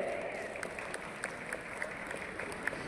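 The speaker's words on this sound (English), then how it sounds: "Let's welcome sir with a huge round of applause." A gala night audience claps together in a fairly distant, even wash of applause with faint crowd murmur, continuing steadily for about three seconds.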